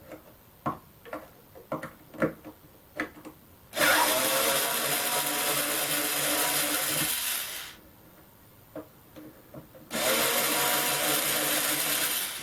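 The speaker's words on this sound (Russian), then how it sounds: "Великая вещь электроотвертка." Electric screwdriver backing out screws from a tweeter in an Amfiton 25AS-027 speaker cabinet: two steady, close whirring runs of about four seconds each, separated by light clicks and taps of handling.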